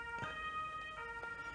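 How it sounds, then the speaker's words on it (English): A faint, steady ambulance siren drones in the background, distant and continuous, with a couple of soft knocks nearby. "an ambulance outside my door"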